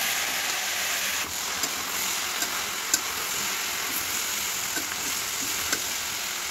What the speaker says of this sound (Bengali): আমি এখানে ভাজিটা বসিয়ে দিচ্ছি, ভেন্ডি ভাজি